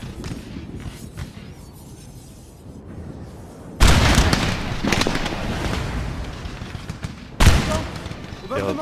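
Musket volleys and artillery fire in Napoleon Total War erupt in two loud crashing bursts, the first and longer near 4 seconds and another near 7.5, over quieter background gunfire, with someone speaking before the volleys.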